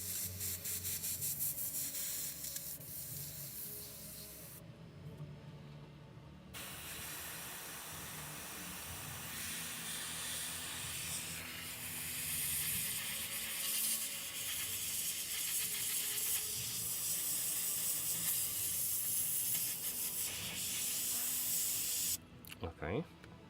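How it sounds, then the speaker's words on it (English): Airbrush blasting a steady, close hiss of air to dry paint on a miniature, continuous for most of the stretch with a short pause partway through, while a voice talks faintly underneath. "Let me use the airbrush just to speed up the drying process now that it's cleaned."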